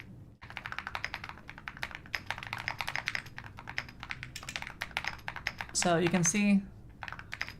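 Rapid clicking of keys on a QWERTY computer keyboard, steady and close, with a brief spoken phrase over the typing partway through.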